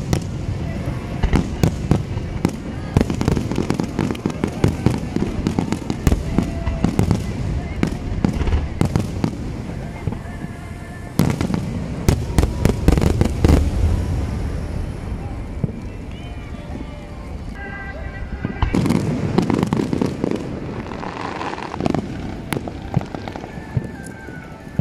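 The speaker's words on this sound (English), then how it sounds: "Two cities have their fireworks." Tamagawa and Kawasaki city fireworks display in 2019, watched from a bridge near the station, with dense bursts of crackling, popping explosions in rapid clusters and a few pauses between volleys, fairly loud.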